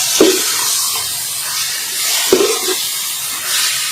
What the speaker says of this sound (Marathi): हे आता 2 मिनिटं परतून घ्यायचं आहे